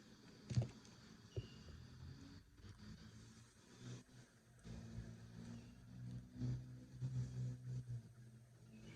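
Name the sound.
cars and trucks driving by outside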